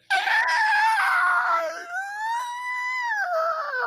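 A voice imitates a creature's drawn-out, wavering scream during a Dungeons & Dragons tabletop session, loud and close, rising and sliding in pitch for about four seconds with no other sound.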